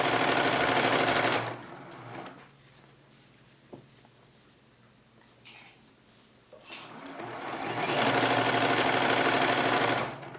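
A sewing machine stitches the last row of a patchwork journal cover, a loud steady whir that stops for several seconds then starts again, with a brief spoken word in the pause.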